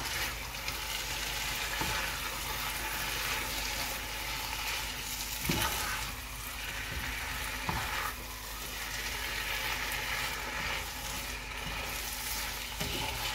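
Chicken arrabiata pasta sauce bubbles and sizzles in a pan, a steady close frying hiss broken by a few stirring clacks of a spoon against the pan; no one speaks.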